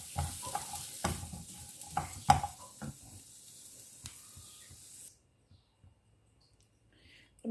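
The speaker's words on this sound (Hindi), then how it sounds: "इसको सिर्फ मैं सौते कर रही हूँ" Food sautés in a pan: soft sizzling with a scatter of sharp clicks and scrapes from stirring for about five seconds, then near silence.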